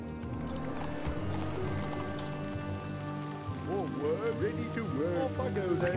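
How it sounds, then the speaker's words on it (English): Rain in the video game Warcraft 3 Reforged, a steady patter under game music and unit voice lines, with someone talking over it. "I can hear like some rain going there."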